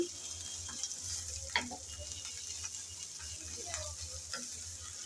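Ginger, garlic and onion fry in a pan for a rohu fish curry, a steady soft sizzle with occasional spatula scrapes and stirring clicks, fairly quiet and close.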